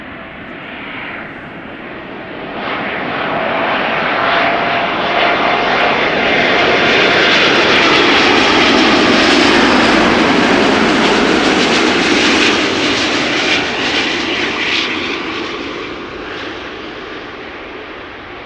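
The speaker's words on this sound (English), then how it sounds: "It's the A350 1000" An Airbus A350-1000 airliner arriving at Amsterdam Schiphol swells from a distant whine into a loud, close jet roar that peaks near the middle and then fades away, with no voices.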